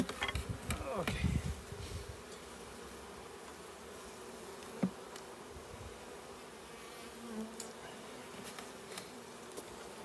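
Bees buzzing around a hive colony, a faint steady insect drone with a louder close pass near the start and brief scattered sounds later.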